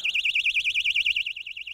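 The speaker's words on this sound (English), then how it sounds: "Inside the box is a loud emergency alarm." A loud emergency alarm sealed inside a box of mineral wool insulation gives a piercing, rapidly warbling electronic siren, continuous and close, with no other sound.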